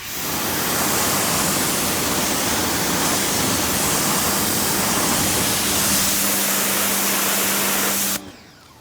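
A Ryobi pressure washer blasts water at about 1,300 PSI through a long hose in a loud, steady close-up hiss that holds without a break for around eight seconds, then cuts off abruptly.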